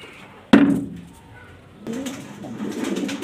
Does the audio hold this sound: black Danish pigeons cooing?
yes